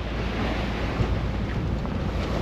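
Wind and waves at sea aboard a sailing boat heading for Fort-de-France, Martinique, with waves breaking over the deck: a loud, continuous roar of wind and surging water.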